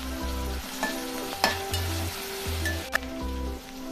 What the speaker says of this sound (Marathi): यामध्ये 1 चमचा अद्रक लसूणची पेस्ट ॲड करूया व ही सुद्धा परतून घेऊया